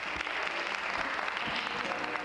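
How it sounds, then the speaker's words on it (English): Studio audience at a 1991 scholarship telethon breaks into sustained applause after a song, dense clapping at an even level with faint low rumble underneath. "You're getting a rousing applause"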